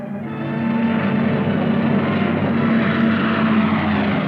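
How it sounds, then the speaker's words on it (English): A steady, droning propeller engine roars throughout, loud and continuous after a brief fade-in, evoking cargo planes flying over the Hump to China in World War II. "Cargo planes shuttled back and forth over the Hump to China."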